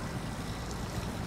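A truck pushing through deep water in SnowRunner, a constant low sloshing wash with an engine-like rumble underneath, steady and fairly quiet.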